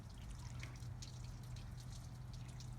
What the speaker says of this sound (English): Now you just want to rinse it, and tap water is fine for that.